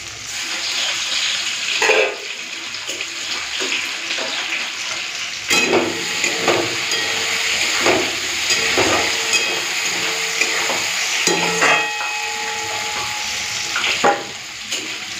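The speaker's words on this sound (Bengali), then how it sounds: "এদিকে রসুনটা ভাজা ভাজা হয়ে গেছে" Dried red chillies and crushed garlic fry in hot oil, a continuous close sizzle with occasional sharper spits and clinks of stirring scattered through, no talking.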